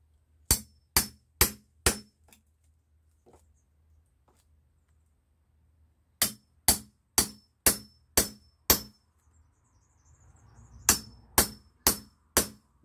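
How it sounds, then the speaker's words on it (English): Hand hammer striking sideways to split a walking stick billet from a log, sharp ringing blows in three rapid bursts of four to six evenly spaced strikes, close and loud, separated by quiet pauses. "Why am I using the side of the hammer?"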